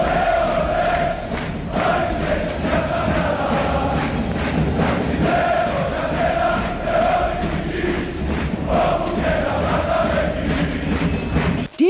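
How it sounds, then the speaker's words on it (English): A basketball crowd in a European arena roars and cheers wildly as Caitlin Clark steps onto the court, a loud, swelling mass of shouting voices with rhythmic chant-like surges and occasional thuds. "The crowd goes absolutely wild."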